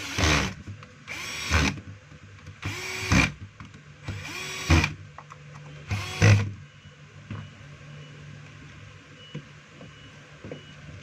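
A power drill drives a screw while a Stanley heat gun is being closed up, with five short, loud whirring bursts that rise and cut off, followed by quieter handling clicks and a background hum.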